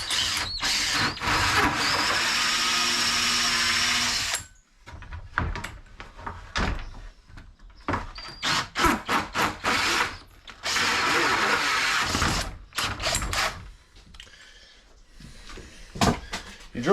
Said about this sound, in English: You drill from both sides because it helps reduce tear out.